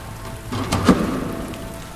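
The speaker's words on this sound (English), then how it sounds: "The whisper of rain in gutters" Rain falling and running through gutters on a quiet night street, a soft steady wash of drops with a brief louder splash near the middle, heard alone.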